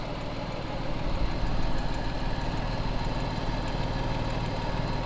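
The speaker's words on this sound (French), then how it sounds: "Le moteur tourne comme un chat." A Morgan V6 Roadster engine idles in a steady, smooth low rumble, close and even throughout, with a slight rise in the first moments.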